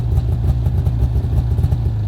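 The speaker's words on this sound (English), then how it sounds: "push the button, it will stop, start again, and now the engine's running backwards." A marine engine on a boat in Maine, stopped and restarted to run backwards for reverse, idles with a steady low throbbing clatter close by, running evenly throughout with no voices.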